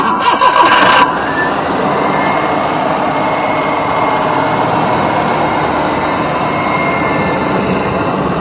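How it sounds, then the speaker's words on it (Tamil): A Maruti 800 petrol car engine cranks briefly and catches, then settles into a steady, loud idle running on for several seconds with no talking. "வாங்க வண்டியோட இன்ஜின் சவுண்ட் எப்படி இருக்குங்கிறத கேட்போம்"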